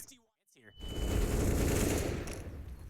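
Automatic rifle fire in a professional CS:GO esports match, a sustained loud burst of rapid shots lasting about two seconds after a brief pause.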